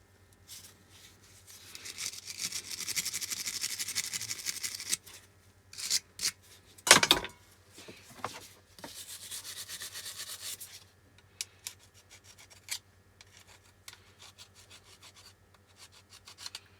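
Stiff scrubbing rasps over a rusty, gunk-coated Stanley No78 rebate plane in uneven bursts, close and moderately loud, with a few sharp knocks and quieter pauses between strokes.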